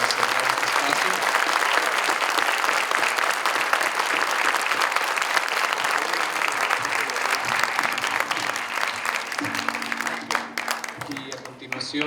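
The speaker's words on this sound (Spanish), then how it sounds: "para cerrar la conferencia les pido un aplauso para la doctora Ann" Sustained applause from a lecture audience closing a keynote conference talk, dense steady clapping filling the room for about ten seconds before thinning, with faint voices rising near the end.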